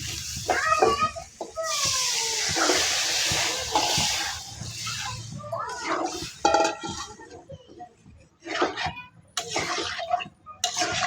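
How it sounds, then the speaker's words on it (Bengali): Water poured into a hot cooking pot in a home kitchen hisses and sizzles loudly at first, then settles into bubbling among clinks of utensils against the pot, with a person talking intermittently. "এখন আমি জলটা দিয়ে নেবো"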